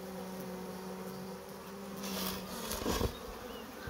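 Loud, continuous buzzing of honeybees from a very large swarm colony heard up close, with a steady drone and a few swelling passes of individual bees near the microphone.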